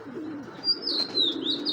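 A highflyer Giribaz pigeon gives a short, close coo with a thin higher chirping note sliding above it, brief and fairly loud against a quiet background.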